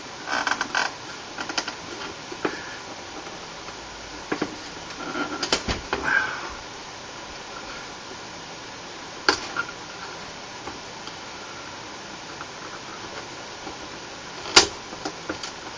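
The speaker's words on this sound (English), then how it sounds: "we're going to take these little rubber tabs off the back, the rubber feet." Small rubber feet are pried and pulled off the back of an Accurian Premier digital receiver/amplifier, model 15-1937, making close creaks, scrapes and clicks with a sharp snap near the end.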